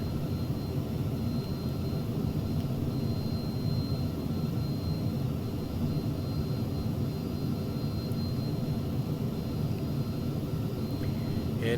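Falcon 50 jet engines in the X-Plane 11 flight simulator give a steady, loud, broad roar and low rumble that holds an even level throughout, with no voices over it.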